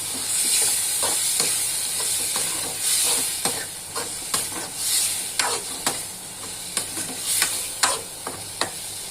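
Prawns sizzle and hiss in a hot pan while being stirred, with repeated sharp scraping strokes of the spoon standing out over a continuous steamy frying noise.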